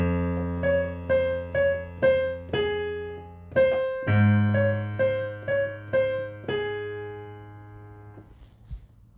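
Piano playing part of a song's chorus, a repeated right-hand pattern of clear plucked notes in a steady rhythm over sustained left-hand bass notes, ending with a fading decay; no talk.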